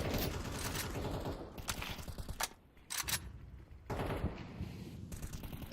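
Sustained automatic rifle fire as a player empties a full magazine in a competitive esports shooter, rapid bursts with short gaps, loud and dense, ending in scattered shots.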